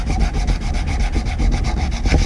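Steady hand block sanding along a flat-head screwdriver shaft, with rapid rhythmic back-and-forth scraping strokes, close and fairly loud, and no voices.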